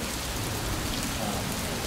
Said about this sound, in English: cave and wind, thunder and lightning, thunder and rain